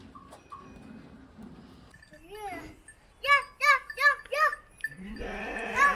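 A newborn lamb, a future breeding ram, bleats several times in quick succession at close range on a farm, with people talking before and after the calls.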